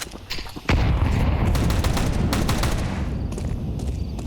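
Rapid Tec-9 fire in Counter-Strike during an ESL Challenger League semi-final, a sudden burst of cracking shots that runs into a sustained rattling stream with booming low impacts, loud and close throughout.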